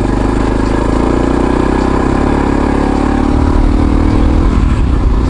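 A motorcycle engine runs on a forest trail ride in Chichester State Forest: a loud, close, continuous drone that holds steady throughout.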